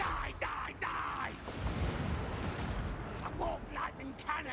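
A warp lightning cannon fires in the fantasy strategy game Total War: Warhammer 2, a sustained roaring, crackling barrage with rumbling blasts, loud and continuous over battle noise.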